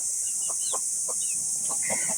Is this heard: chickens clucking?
yes